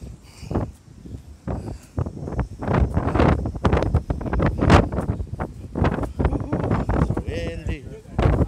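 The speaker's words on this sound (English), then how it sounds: "Windy day." Wind blows on a windy day at Pacifica Pier, buffeting the microphone in irregular low gusts that rise and fall throughout.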